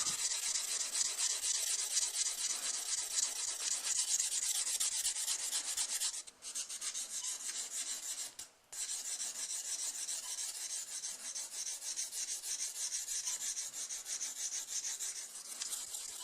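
Rough edges of a Bogota are rubbed smooth during polishing with a continuous, close rasping scrape that stops twice briefly before resuming.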